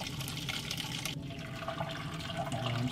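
Homemade fish soup mixture pours gradually through a strainer, giving a continuous soft liquid rush and splatter at close range with no talking.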